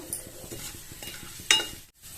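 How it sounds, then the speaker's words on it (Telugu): Cumin, mustard seeds, chana dal, urad dal and dried red chillies crackle as they temper in hot oil for lemon rice, with close stirring scrapes and one sharp clink of a spoon. "జీలకర్ర, పచ్చెనపప్పు, మినపప్పు, ఎండుమిరపకాయలు వేసి బాగా ఒకసారి కలబెడదాం."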